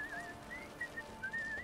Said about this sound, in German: Ja, jetzt pfeifst du doch fröhlich.